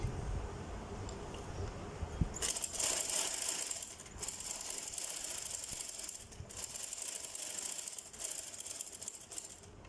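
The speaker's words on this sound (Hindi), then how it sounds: "शोल्डर वाली साइड पे भी आप यहाँ से इस कट से उसी तरह सिलाई लगाना स्टार्ट करेंगे।" Sewing machine stitching a puff sleeve from the shoulder side, a steady mechanical whirring and rattling that runs almost continuously, with brief pauses between runs of stitches.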